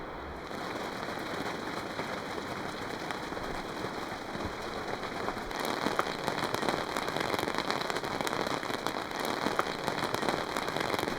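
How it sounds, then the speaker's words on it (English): Heavy rain drums steadily on a dome tent in a Norwegian forest, a dense close patter of countless drops that swells louder halfway through, with no voices. "As you might be able to hear, it's raining quite heavy now."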